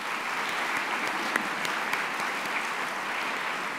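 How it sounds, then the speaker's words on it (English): A university Towers event audience applauds faculty co-hosts, producing an even, dense patter of many hands clapping at moderate loudness, with a few sharper individual claps standing out. "please give them a round of applause."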